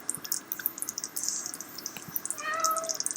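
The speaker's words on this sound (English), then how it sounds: "Hello, brown cat. Yes, we hear you." A brown cat meows several times indoors in short, close calls, with a longer, clearer meow near the end, alongside faint clicks and small background noises.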